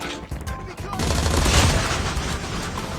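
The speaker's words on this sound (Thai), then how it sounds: "เดี๋ยวลองยิงแบบว่าใกล้ ๆดูก่อนแล้วกันนะครับ" AK117 rifle fire in the Call of Duty Mobile game, a dense sustained burst of rapid shots that swells loud and continues steadily for several seconds without speech.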